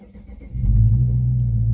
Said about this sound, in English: When I push on the brake pedal and push the start